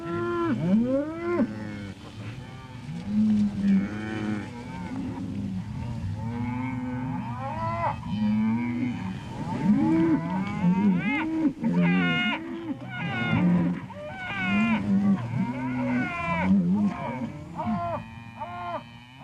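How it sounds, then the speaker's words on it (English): Cattle of a newly developed breed lowing outdoors, a long series of overlapping moos from several animals, some near and loud, others farther off, continuing steadily with no speech. "All our cattle are outside."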